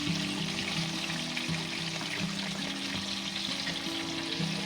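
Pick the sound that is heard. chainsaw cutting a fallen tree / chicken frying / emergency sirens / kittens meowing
chicken frying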